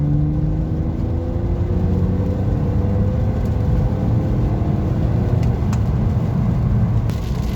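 BMW car engine revving after a sensor repair, a steady loud drone with the pitch climbing slowly as the revs rise, heard up close and alone.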